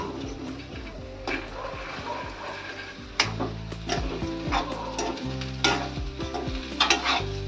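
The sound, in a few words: mung beans being stirred and sautéed in a pan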